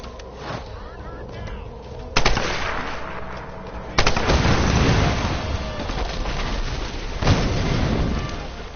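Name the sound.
gunfire in video game Tomb Raider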